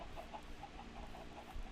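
Chickens in a Minecraft game clucking softly and repeatedly in a steady, gently rhythmic pattern, faint under a continuous background hum.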